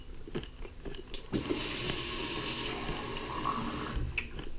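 Tap water runs into a container of hazelnuts for making homemade vegan yogurt, a steady rushing pour lasting a few seconds after some light handling clatter, then cutting off.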